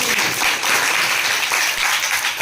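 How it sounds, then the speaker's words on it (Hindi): A school science quiz show audience claps loudly and steadily for a correct answer. The applause is brief, dense and close, with no pauses. "तो एक बार जोरदार ताली बजाएं"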